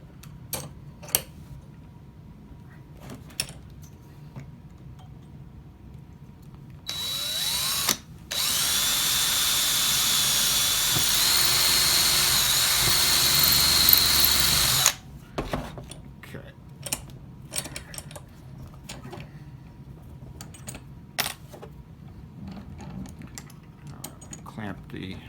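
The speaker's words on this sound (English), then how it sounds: "we want to start with the pilot drill again to try and help it stay" Pilot drill boring through a wooden dowel: a loud, steady whine runs for about eight seconds, broken by a brief pause near the start, with quieter clicks and handling noises before and after.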